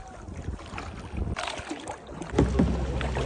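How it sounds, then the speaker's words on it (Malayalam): Two people paddle a kayak through water, with steady splashing and dripping strokes under low wind noise on the microphone; no talking is heard. "ഞങ്ങള് അവിടെ ഹൊയ് ഹൊയ് എന്നും പറഞ്ഞ് രണ്ടുപേരും തുഴഞ്ഞു വരുന്നു."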